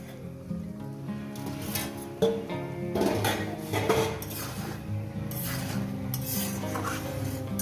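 Spiced masala with tomato being stirred and fried in a pan, a spoon scraping and clinking against the metal in steady strokes over a soft sizzle, close by with no talking.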